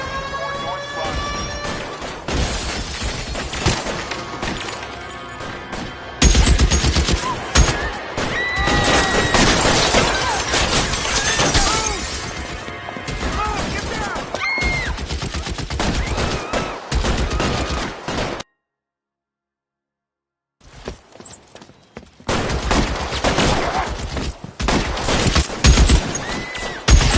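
Gunfire during a police shooting scene in the video game L.A. Noire, with bursts of shots mixed into dense game sound, music and radio voices, loud and near, then a short silence before the action resumes.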